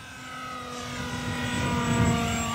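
FMS Mirage 4000 radio-controlled model jet flying overhead at a Danish field, a steady whining engine tone that swells slightly louder as it draws nearer, with no talk over it.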